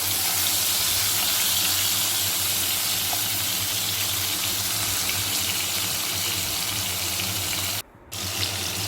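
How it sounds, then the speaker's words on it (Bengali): Potatoes and pointed gourd fry together in oil left from frying fish, a loud, dense, continuous sizzle that cuts out briefly near the end before resuming. "ওই মাছ ভাজার তেলের মধ্যেই আমি এখন আলু আর পটলগুলোকে একসাথে দিয়ে দিলাম।"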